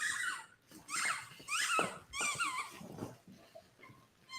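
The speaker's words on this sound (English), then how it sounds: "Got some dogs here." Several dogs on a couch whimper and squeal in short, high-pitched bursts, fairly close and moderately loud, with brief pauses between cries.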